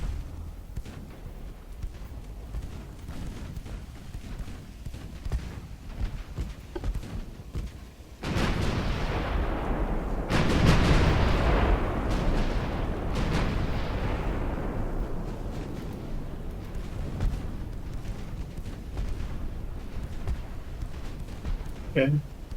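Naval guns boom in the warship battle game Ultimate Admiral: Dreadnoughts, a heavy salvo breaking in and rolling on as repeated deep blasts over continuous battle rumble, with a player talking.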